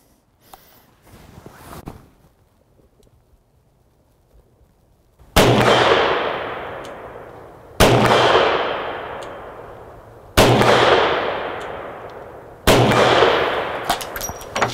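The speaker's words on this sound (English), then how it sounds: "Now I'm gonna be shooting freehand, double action only, at a plate at 50 yards." Four loud double-action shots from a 2021 Colt Anaconda revolver fired freehand at a steel plate 50 yards off, each a sharp bang with a ringing decay, evenly spaced about two and a half seconds apart after a quiet start.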